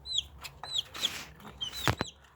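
Young chicks give repeated high, thin chirps in short bursts, fairly close, with a few louder sharp peeps and faint background rustle; no one speaks.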